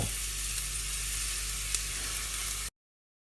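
Softened vegetables and garlic being mixed around in a soup pot give off a steady, even sizzle with faint stirring movement underneath, constant throughout before cutting off abruptly.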